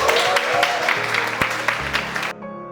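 Audience applause for students at a KENTECH university project event, a steady burst of clapping that fades out abruptly near the end, with no talking over it.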